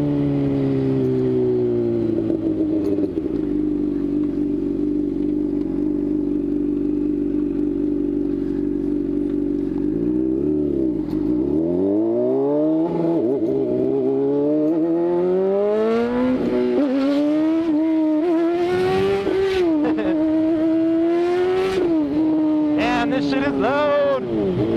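A 600cc motorcycle engine idles steadily, then revs up and down repeatedly as it accelerates, the pitch climbing and dropping in loud, close sweeps with rattling undertones.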